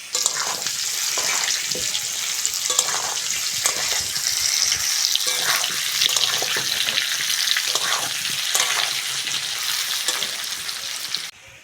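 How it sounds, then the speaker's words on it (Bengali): Papaya pieces fry in hot oil with a loud, continuous crackling sizzle that holds evenly throughout, close and without voices. "বন্ধুরা পেঁপেগুলো ভালো করে ভেজে নিয়েছি"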